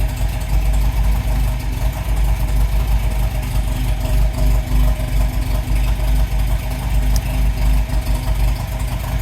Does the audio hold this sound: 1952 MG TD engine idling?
yes